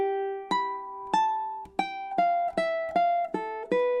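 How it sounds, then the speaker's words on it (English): A solo ukulele picks a stanza of Chopin's Nocturne Op. 9 No. 2 as a slow melody of single plucked notes, about nine in a row, each ringing clearly and close up. "This whole stanza should sound something like this."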